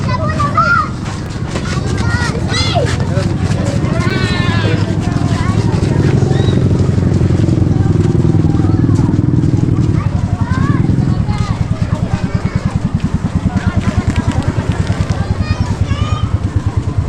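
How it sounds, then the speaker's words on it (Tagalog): A motorcycle engine drones nearby on a busy crowded road, its steady rumble rising and then easing as it passes, while people talk loudly over it. "may motor ha."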